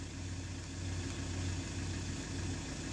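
A 2016 Iveco Daily 70C17 minibus diesel engine runs steadily and quietly, heard from inside as a low, even hum with a faint rhythmic throb and no talk.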